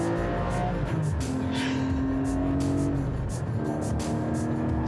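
A Porsche 718 GT4 engine revs loudly toward high rpm, a close, sustained roar that climbs steadily and fills the entire stretch with no talking over it.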